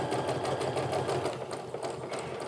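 A sewing machine stitches quilt block pieces in a fast, steady mechanical whir with a rapid even clatter of the needle, close and continuous throughout.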